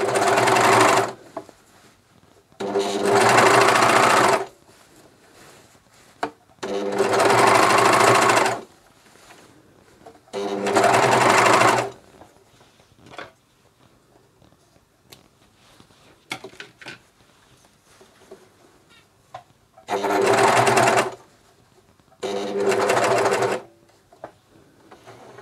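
A Juki MCS1500 coverstitch machine sews through thick seams in six loud, steady bursts of a few seconds each, separated by quiet pauses with small clicks and handling noises.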